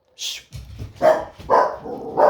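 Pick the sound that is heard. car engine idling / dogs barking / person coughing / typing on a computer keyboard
dogs barking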